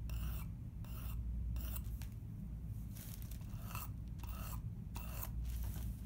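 A pointed hemostat, a vasectomy forceps tip, is rasped against a sharpening stone in short repeated strokes. The gritty filing comes up close and fairly quiet, with small pauses between strokes and no talk over it.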